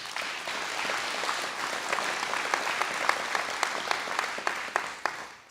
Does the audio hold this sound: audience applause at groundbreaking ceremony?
yes